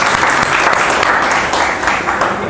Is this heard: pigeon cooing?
no